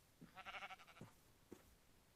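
A black sheep bleats in the Minecraft video game, one long wavering bleat followed by two short ones, clear and alone at moderate level.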